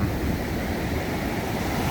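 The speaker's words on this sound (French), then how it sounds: "C'est un endroit mythique, avec des grosses vagues, comme sur la plage des Salines, et du sable noir." Big waves breaking on a black-sand beach in Martinique, like at Les Salines, heard as a loud, continuous roar of surf mixed with wind buffeting the microphone, without any voices.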